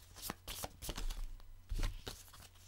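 Tarot cards are shuffled by hand for a moon card draw, a run of quick riffling, slapping bursts up close in a quiet room.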